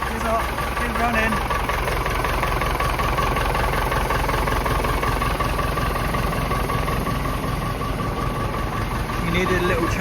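A vintage Nuffield 10/60 tractor engine runs steadily at a cold idle, close and loud, with a continuous rumbling, knocking drone that holds unbroken for the full ten seconds.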